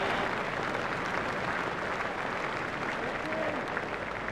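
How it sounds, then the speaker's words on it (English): Crowd in a stadium applauding a boundary four in the PlayStation 2 video game EA Cricket 2002, a dense, sustained wash of clapping and cheering with faint commentary underneath. "Crowd were brought to their feet by that shot."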